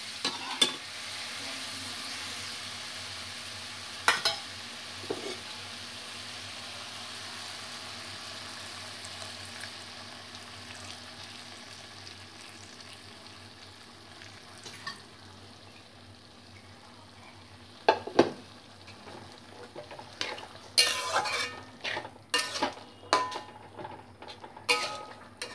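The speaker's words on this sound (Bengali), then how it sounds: "এবার ছোলা সেদ্ধ করা জলটা আমি দেবো।" Water from boiled chickpeas poured into a pan of frying masala for Punjabi-style chana masala: a soft, steady sizzle with a few scattered clinks from the spoon, then louder bursts of stirring and scraping toward the end.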